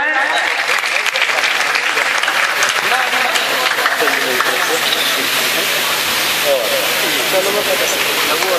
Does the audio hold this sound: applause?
yes